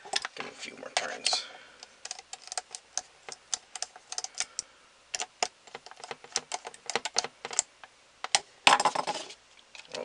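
Small screws being turned out of a Kangaroo Mobile Desktop Pro mini PC during a storage upgrade, heard as close, quick clicks and ticking scrapes in irregular bursts, with brief soft handling noises between them.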